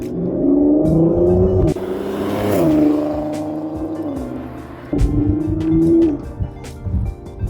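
A 2008 Audi TT VR6 engine drones and revs up through several gears with a rising tone, followed by steady cruising and road noise.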